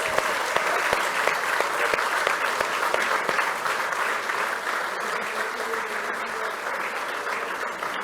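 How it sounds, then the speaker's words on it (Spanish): A congregation at a Lenten mission gathering applauds for the families, a sustained, even roar of many hands clapping that holds steady throughout without fading. "un aplauso para nuestras familias"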